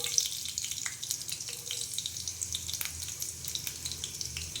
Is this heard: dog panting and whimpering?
no